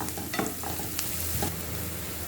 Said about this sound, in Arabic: البصله اتشوحت كده مع فص الثوم.